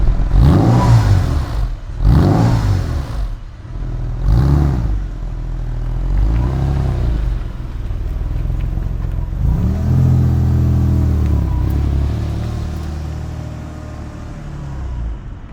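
A car engine runs loud and close, revving in several rising pulls as the car starts off and drives away, then settling into a sustained drone.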